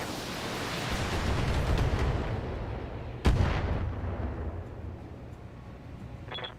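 All weapons fire at once in a Battle Armor video game, a dense sustained roar of gunfire with one sharp loud blast partway through, then the barrage slowly fades.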